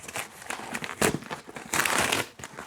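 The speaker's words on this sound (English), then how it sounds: "My unboxing is terrible." Plastic packaging crinkles and rustles in bursts as a parcel is handled and torn open up close.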